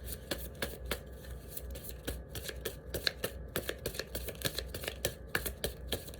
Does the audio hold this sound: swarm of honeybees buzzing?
no